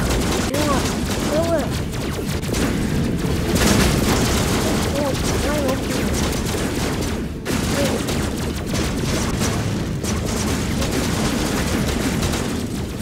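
Weapons firing at a target in the game Robocraft, a continuous barrage of gunfire and booms running the whole time, loud and dense with a short dip midway.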